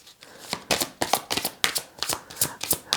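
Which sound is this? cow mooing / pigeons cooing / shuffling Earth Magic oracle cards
shuffling Earth Magic oracle cards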